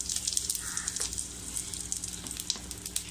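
Mustard seeds and urad dal sizzle steadily in hot oil in a pan, a close, even frying hiss with faint crackles running throughout, no voices.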